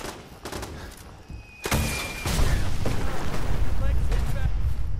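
A missile launcher explosion in the game Fallout 4, a sudden loud boom followed by rumbling, crackling debris and a lingering roar, with a voice talking over it.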